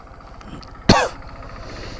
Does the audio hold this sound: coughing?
yes